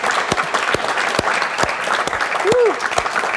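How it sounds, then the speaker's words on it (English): A live studio audience applauds a photographer guest with steady clapping, punctuated by a few sharp, close claps and a rising whoop, while a voice speaks over it. "give Mr. Chris Buck a hell of a round of applause"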